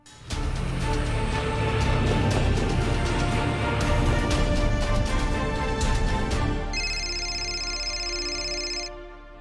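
A phone rings unanswered, first under dense music and background sound, then its electronic ring tone stands out alone for a few seconds before stopping.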